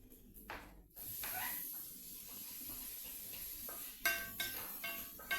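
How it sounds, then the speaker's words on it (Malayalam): Tomatoes tossed into a hot pan for crab theeyal and stirred, a soft hiss and sizzle with scraping and clinking of a spoon against the pan, quiet and close. "ഓക്കെ, തക്കാളി ഇട്ട് കൊടുക്കട്ടെ"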